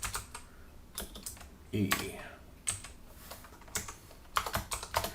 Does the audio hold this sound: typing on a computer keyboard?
yes